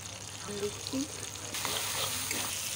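Black cumin seeds and chopped tomato sizzle in hot oil during Bengali tempering, a steady hiss that suddenly grows louder and more spattery halfway through, while a voice talks over it.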